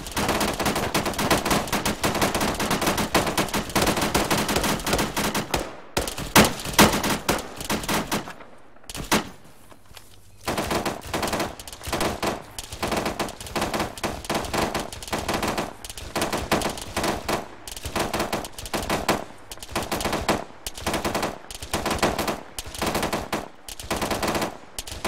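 Gunfire during a team assault in a field operation: dense, rapid automatic bursts fill nearly the whole stretch, close and loud, broken by a few brief pauses before the rattling resumes in quick repeated volleys.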